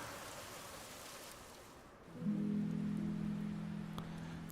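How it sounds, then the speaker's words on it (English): Rain in the video game Her World shifts from a light hiss into a heavier, steady downpour about halfway through, joined by a low sustained hum, continuous and fairly close. "The rain got even stronger."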